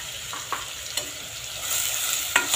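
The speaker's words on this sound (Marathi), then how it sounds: "कांदा ब्राऊन होऊन छान परतवून घ्यायचा।" Onions with salt and turmeric sauté in a pan for misal pav, giving a soft steady sizzle punctuated by a few light scrapes of a spoon, quiet and close.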